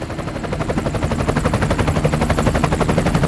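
A helicopter flies over the final stage of the day at the 2012 WRC Monte Carlo Rally, producing steady, loud rotor chop with a fast regular thumping pulse that continues throughout, with no speech.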